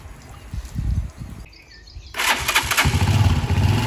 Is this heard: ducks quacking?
no